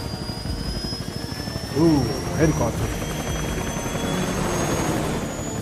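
Mi-24A attack helicopter in the video game Metal Gear Solid Peace Walker, a steady rotor thrum and engine whine close in, with brief voice-like bursts mixed into the game audio partway through.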